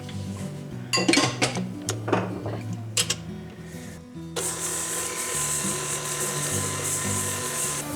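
An electric mixer creams butter and white sugar for snickerdoodle cookie dough in a country cabin kitchen: a few clinks and knocks at first, then a steady loud motor whir that runs unbroken to the end.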